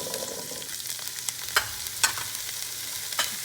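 Cauliflower pieces hit hot oil seasoned with asafoetida in a pan, setting off a loud, steady close-up sizzle with a few sharp pops and crackles and no talking.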